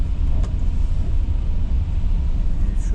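A truck drives in traffic on the Moscow Ring Road near Yasenevo, its constant low engine and road rumble filling the cab with a steady, loud drone.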